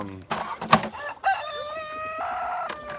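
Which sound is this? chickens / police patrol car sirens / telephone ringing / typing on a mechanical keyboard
chickens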